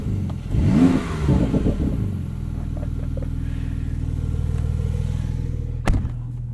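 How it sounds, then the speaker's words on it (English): Exhaust of a 2021 Porsche 911 Turbo S (992) opening up under acceleration: a loud surge of engine roar that settles into a steady, close drone with a brief thump near the end. "The exhausts open up there between normal and sport."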